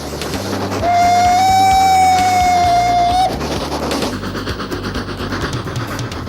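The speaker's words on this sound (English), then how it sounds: "steam, smoke, and the soothing clank of the rails" A steam train rumbles and clatters along the rails in Scotland, with a long steady whistle blast sounding over the rolling noise before the clanking continues.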